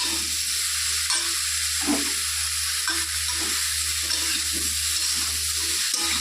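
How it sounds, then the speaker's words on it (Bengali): Cauliflower and potato pieces fry uncovered with turmeric and salt, a steady sizzle broken by regular, rhythmic scraping strokes of a spatula over a constant low hum. "ওদিকে ফুলকপি ভাজা হচ্ছে"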